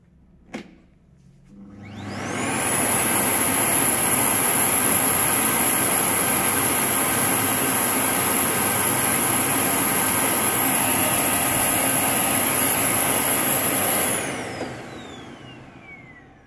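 Parkside Performance PPWD 30 A1 shop vacuum cleaner starting up, whining at a loud steady roar for about twelve seconds with a high tonal whistle, then spinning down and fading.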